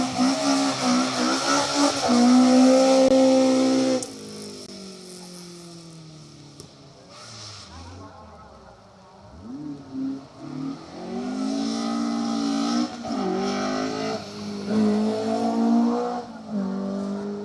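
Group 4 spec historic rally car with a Pinto engine passes on a night stage of a historic rally festival, loud revving rising and falling through gear changes as it approaches, fades, then returns up close.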